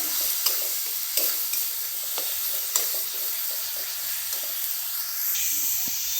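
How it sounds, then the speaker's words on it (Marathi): Onion and tomato paste sautéing in a pan for chole, a continuous close sizzle broken by sharp periodic scrapes of a spoon against the pan, no voices. "टोमॅटो पेस्ट टाकली आहे चांगलं परतून घ्यायचं"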